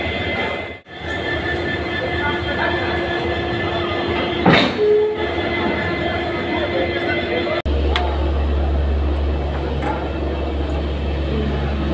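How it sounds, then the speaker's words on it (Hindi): At a railway junction, a locomotive couples onto the Capital Express with a steady rumbling idle, a squeal partway through and then a sharp clank followed by deeper engine drone, while voices are heard nearby. "लोकोमोटिव का कपलिंग देखने के लिए"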